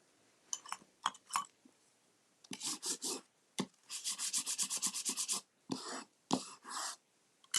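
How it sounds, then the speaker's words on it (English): A paper die-cut design for a honeybee notecard is burnished by hand, giving close, dry rubbing and scraping strokes in quick bursts, then a steady run of rhythmic back-and-forth rubs, with short pauses between passes. "there's my beautiful die cut design. I'm going to give that a burnish."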